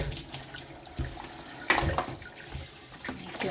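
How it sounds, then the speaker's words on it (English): Tap water runs into a kitchen sink during washing up, a faint, uneven splashing with small clatters and gurgles close by. "I have to wash up"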